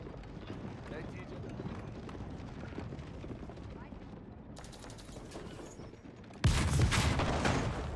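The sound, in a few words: gunshots at the keep in Age of Empires video game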